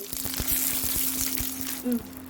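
Food fries in hot oil with a steady soft sizzle and crackle, a low humming tone running underneath and faint bubbling pops close by.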